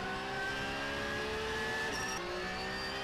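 GT race cars at the Nürburgring 24 Hours, including a Porsche and a Ferrari, a sustained loud engine roar as cars run flat out with shifting pitch and a short high whine midway, no voices.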